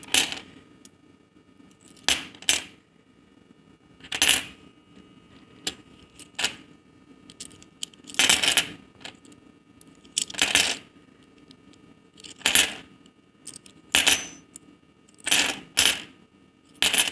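Silver quarters of 90% silver, mostly from the 1960s, clink and jingle as they are unboxed and handled, in bursts of bright metallic rattling separated by quiet pauses, close by and without talk.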